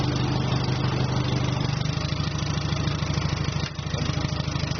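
A home-made 4x4 mini tractor's engine runs steadily at idle, a continuous close, loud mid-pitched putter with a brief dip near the end, no talking.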